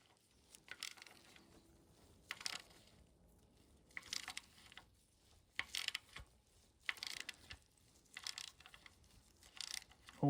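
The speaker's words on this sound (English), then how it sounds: "as we turn that into the thread and the thread tightens, the socket will bottom out against the head and that will pull that little pin out" A socket turns a threaded puller to draw a small pin out of a chain guide, giving bursts of ratcheting clicks repeated at intervals with quiet pauses between them.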